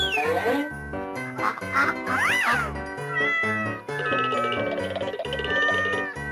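A cat meows a few times over a busy, loud musical backing with rhythmic beats, the meows rising and falling clearly above the music.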